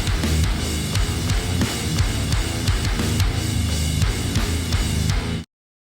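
Programmed metal drums with kick following the guitar rhythm, plus crash and snare, pound densely and loudly under heavy guitars for about five seconds before cutting off abruptly.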